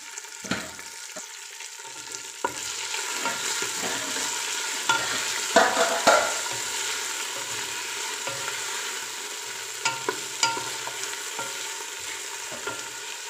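Biryani masala is stirred and fried in a pan, giving a steady sizzle with scraping spoon strokes and occasional louder clatters, no one talking.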